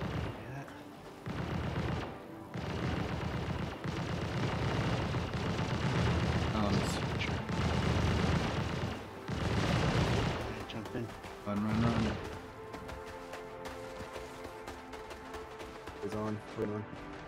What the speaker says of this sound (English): All right, turrets are opening up on you.